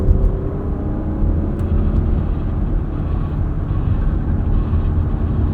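A 2022 Porsche Macan S SUV engine, driven with its PDK gearbox in manual mode, makes a loud, steady low rumble and road roar throughout with no talking.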